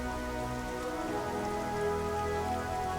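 Rain falls steadily in the Strategic Mind: The Pacific battle of Guadalcanal, an even, soft hiss of drops with faint sustained tones beneath, no voices.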